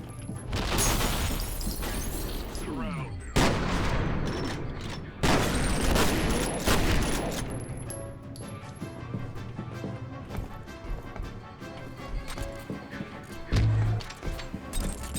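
Turret gunfire in the F.E.A.R. Perseus Mandate shooter comes as loud, dense bursts early on. Quieter crashes and rattling combat sounds follow.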